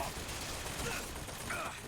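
Turret gunfire in Bioshock Infinite rattles in a faint, steady, noisy burst, the rapid shots blurring into a continuous stream for a couple of seconds.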